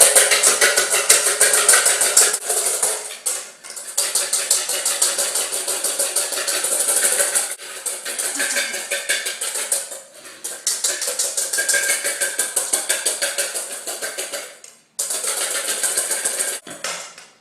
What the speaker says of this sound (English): grab our whisk, and just start to whisk it with all the enthusiasm you can muster